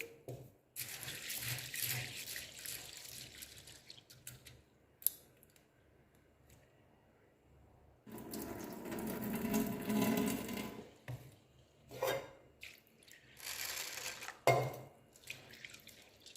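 Lentils being washed by hand in water, with bursts of swishing and sloshing separated by quiet gaps and a few faint drips, fairly soft and close; no talking.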